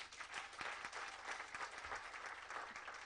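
Audience at a climate justice symposium applauding in a steady wash of clapping from many hands, even and continuous, moderately loud in a room.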